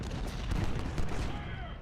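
Dense battle noise from a war strategy video game, with gunfire and rumbling artillery layered into a steady, loud wash, and a voice talking over it.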